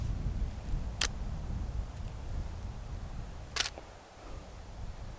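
Two sharp mechanical clicks a couple of seconds apart, a camera shutter opening and then closing on a long exposure, over a low background rumble.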